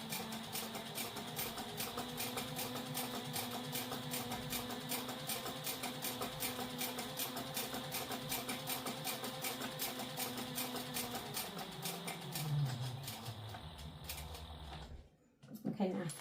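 Sewing machine stitching a satchel, a steady fast rhythmic whir and needle clatter running close and continuous, then slowing and stopping near the end.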